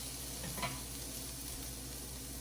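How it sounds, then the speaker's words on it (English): Onion and garlic sauté in a hot pan, a steady close sizzle and crackle running throughout, with a brief stir or scrape near the start. "Get all the onion and garlic to one side of the pan so it can just simmer"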